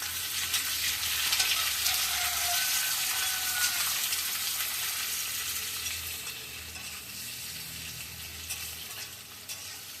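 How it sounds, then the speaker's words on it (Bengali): Eggplant and potato pieces fry in hot mustard oil in a kadai, a loud, steady sizzle with a hissing crackle that stays constant for the whole stretch, slowly easing a little toward the end, with no talking over it. "তেলটা গরম হয়ে গেছে, এখন প্রথমে বেগুন আলুটা দিয়ে দিচ্ছি।"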